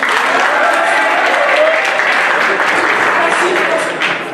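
Audience applause fills the room, a steady dense wash of many hands clapping without pause for over four seconds before easing slightly at the end.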